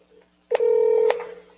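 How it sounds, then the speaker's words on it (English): A phone dials a call, giving a single clear touch-tone beep lasting about half a second, moderately loud against a quiet background. "let me call her, see if she answers"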